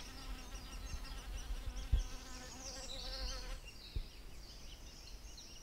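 Wasps hovering around abandoned mole burrows, a steady close insect buzz with wavering whine rising and falling for several seconds, a few soft thumps underneath, then the buzzing thins out.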